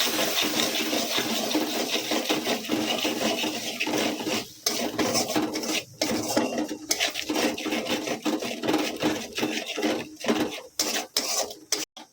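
A spoon stirs sour yogurt quickly into an aloo matar paneer curry in a pan, with continuous scraping and sharp metallic knocks against the pan's sides in an irregular rhythm, close and fairly loud, with no voices.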